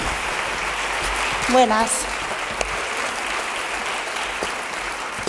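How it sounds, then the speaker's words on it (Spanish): Audience at an education conference session clapping to welcome a speaker, a steady patter of applause across the room, with a brief whistle-like tone and a short spoken greeting partway through. "yo os pediría un gran aplauso para Mónica"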